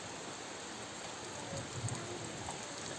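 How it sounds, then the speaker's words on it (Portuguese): Light, fine rain falling outside under the eaves of a small house, a faint steady hiss with a few scattered drops, no voices. "Chuva fina, mas tá bacana"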